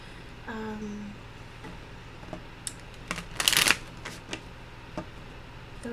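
A deck of Lenormand cards is shuffled close by, with scattered soft clicks and then a dense, riffling burst in the middle, followed by a few more light taps.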